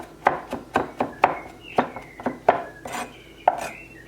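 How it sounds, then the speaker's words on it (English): A kitchen knife chopping parsley finely with its tip on a board, making a steady series of about ten crisp, close taps with short gaps between them, heard alone and fairly near. "if you use the tip of the knife, then this helps you to chop the parsley finely"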